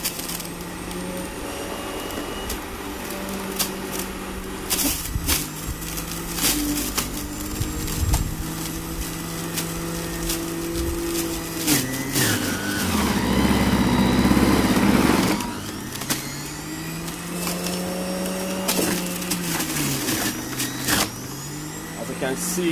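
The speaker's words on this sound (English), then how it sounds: "I'm gonna blend everything through the juicer machine." An electric juicer grinding cucumber, green apple and broccoli, a steady loud motor whine that strains and drops in pitch as produce is pushed through, swelling heavily midway, with a voice talking over it.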